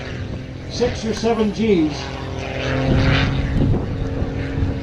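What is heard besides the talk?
aerobatic airplane flying past at an airshow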